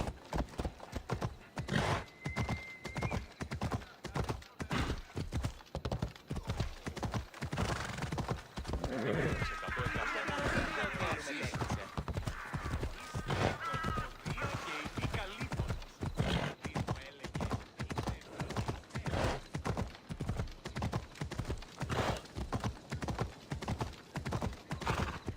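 Horse hoofbeats clatter in a steady, fast clip-clop rhythm throughout a ride in Assassin's Creed Odyssey, with a brief whinny midway and game sounds layered underneath.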